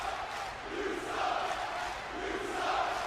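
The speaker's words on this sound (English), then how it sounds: "Sounds like the crowd maybe heard GFS's jeers towards Malachi" A wrestling match crowd in the video game WWE 2K roars, shouts and jeers in a continuous wash of voices, with swelling waves of noise throughout.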